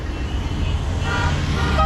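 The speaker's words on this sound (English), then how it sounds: "Just a bit of an impromptu car rally going by." Cars in an impromptu street rally in Marrakesh roar past close by, a steady loud traffic rumble with horns sounding near the end.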